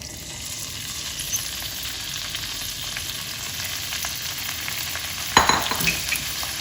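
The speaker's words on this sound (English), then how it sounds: "I'm going to saute our vegetables for about 5 minutes" Parboiled vegetables sizzle in hot oil in a pan for navratan korma, a constant close frying hiss with a sharper clatter of stirring near the end, and no voices.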